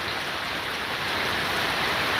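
Steady monsoon rain pours down in the first rain of the season, a dense, even hiss of falling water that fills the whole moment without pause and without voices.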